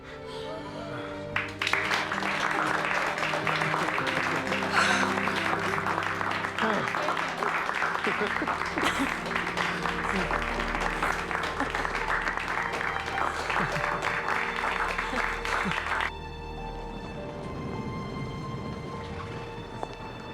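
A large crowd roars and cheers outdoors after a not guilty verdict in a murder trial, a dense, steady wash of voices lasting about fifteen seconds before dropping to a quieter murmur.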